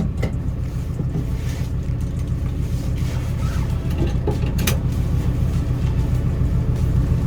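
A 2025 Roxor all-weather off-road vehicle on a test drive, its engine a loud, steady low rumble heard from close by with faint wind noise and no talking.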